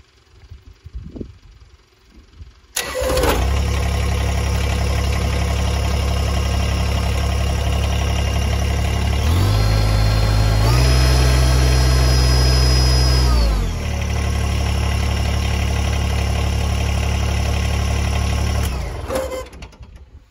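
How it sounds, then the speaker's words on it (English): A Kubota BX1880 small three-cylinder diesel tractor, already slightly warm, cranks and catches, then idles loud and close with a steady clattering drone. Midway it briefly revs higher before settling back to idle, and it shuts off near the end. "I'll go ahead and start it, just see what it's like."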